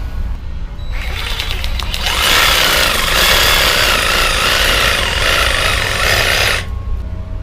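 A Diablo pruning blade on a power tool grinds through bush roots near the base of a plant, a loud rough buzzing cut that swells in the middle and stops cleanly, with motor noise running before and after.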